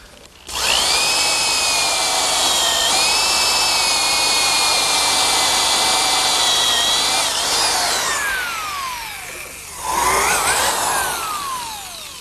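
A power drill with a Forstner bit bores a flat-bottomed counterbore into picnic table wood, a loud continuous whine that sags and slows near the end, then a second short surge after a brief pause.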